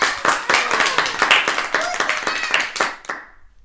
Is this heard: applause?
yes